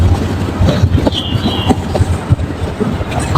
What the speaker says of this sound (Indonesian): itu adalah suara ombak di lautan